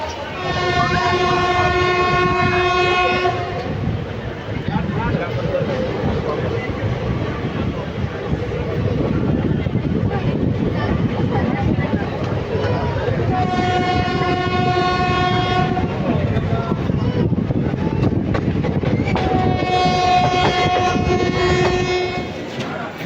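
Inside the VSKP–BBS Intercity Express, wheels rumble and clatter continuously over the rails while the train horn sounds three times, long harmonic blasts near the start, middle and end.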